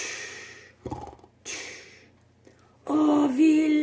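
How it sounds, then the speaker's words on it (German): A small hedgehog snores in hibernation, with soft breathy snorts and wheezy inhalations coming in uneven bursts, then a louder, sustained rasping snore near the end, close and fairly loud. "Der kleine Esel hört ihn nur schnarchen."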